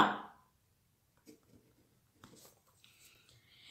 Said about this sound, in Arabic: أنا الآن أكتب